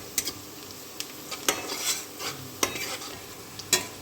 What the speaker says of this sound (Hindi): बारीक कटा हुआ प्याज फिर डालेंगे इसमें। देखिए प्याज को थोड़ा ब्राउन करना है।